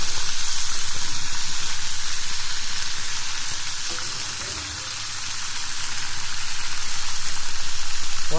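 Hot coconut oil sizzles steadily in a pan over a low flame, a continuous bright crackling hiss at moderate loudness that dips slightly midway.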